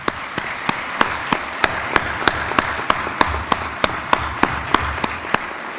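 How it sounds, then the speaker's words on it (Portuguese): Slow, rhythmic clapping from a gathered crowd at a fire brigade anniversary ceremony honouring firefighters. Distinct, evenly spaced claps over a soft bed of applause run through the whole stretch. "através de uma salva de palmas a todos eles."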